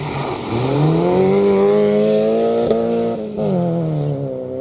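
A Peugeot rally car powers out of a tight hairpin, its engine rising steadily in pitch as it accelerates. The sound is close and loud, with a brief dip, likely a gear change, before climbing again.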